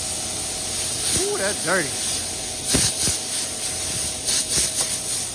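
Compressed air hisses in short and sustained blasts as dust is blown off car doors, a 1984 C10, before painting in a shop, with a person speaking briefly between bursts.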